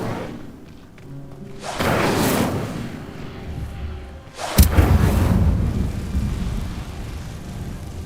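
Incendio fire spell cast in the Hogwarts Legacy video game, a rushing whoosh that swells and fades, followed by a sudden sharp burst and a roaring, crackling flare that slowly dies away.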